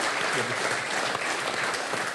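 Studio audience applauds on a television talk show with Indian sports figures, a dense, even wash of clapping sustained throughout at moderate level.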